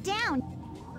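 A bird in the video game Sonic Adventure DX lets out a quick, bright rising-and-falling chirp up close, followed by a softer, lower tail.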